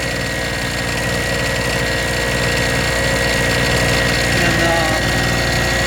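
A portable gas generator with a 2-cycle engine idles with a loud, steady droning hum and constant mechanical vibration throughout, close by and unbroken.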